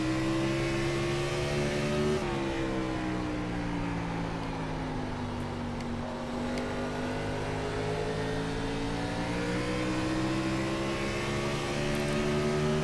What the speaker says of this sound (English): I'm going like half throttle down the straightaway already